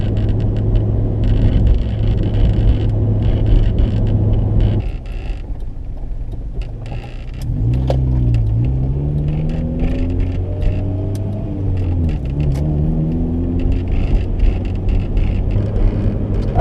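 A 2000 Honda Civic SiR driving on the road, a steady engine rumble with road noise inside the car that dips briefly midway, then rises again as the engine revs through several gear changes.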